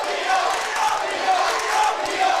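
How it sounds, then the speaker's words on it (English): Sustained loud cheering fills the stands at North Lamar during a girls basketball game against Dallas Lincoln, a thick roar of many voices rising and falling slightly but never dropping out. "Very loud opening from the crowd at North Lamar."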